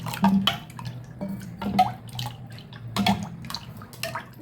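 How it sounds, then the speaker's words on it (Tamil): Water splashes and trickles into a pot of mor kuzhambu, a buttermilk curry, in short uneven pours, close and fairly clear, with small drips between the pours. "இன்னும் கொஞ்சம் தண்ணி கலந்துக்கிறேன்"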